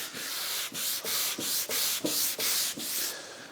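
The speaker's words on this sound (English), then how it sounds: "I think my favourite will be the sanding block" Steady rhythmic rasping of a sanding block with 120-grit sandpaper rubbed back and forth by hand, about nine even strokes, close and clear with no voices.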